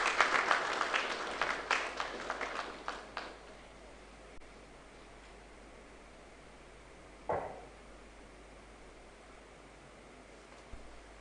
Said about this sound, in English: Please, may we welcome him with a round of applause.